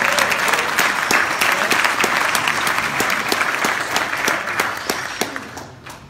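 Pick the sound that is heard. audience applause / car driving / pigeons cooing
audience applause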